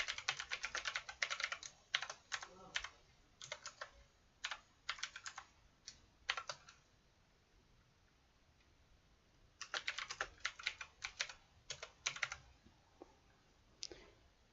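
Bursts of quick keystrokes on a computer keyboard as a chart title is typed in Excel 2010, close and crisp, separated by short pauses, with no talking.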